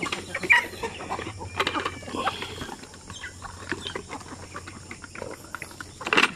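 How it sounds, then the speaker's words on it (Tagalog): A flock of Sampi native chickens clucks and chatters busily at morning feeding time, many overlapping clucks near and far, with occasional scratching and faint background noise. "So magpakain kami sa aming mga manok."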